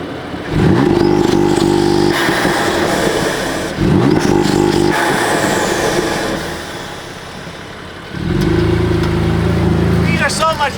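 A BMW M4 fitted with front-mount intakes makes repeated loud flybys, its engine roaring up to a peak and fading away three times, with quieter gaps in between.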